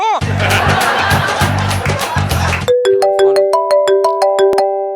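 Loud chatter and laughter from a TV comedy skit stop abruptly, then a phone ringtone plays a bright, rising electronic melody of repeated notes.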